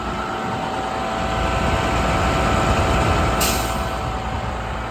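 A 2012 International 4300 diesel excavator truck with a Bradco 509 boom runs as a steady, fairly loud drone, with a short hiss like an air brake release partway through; no one speaks.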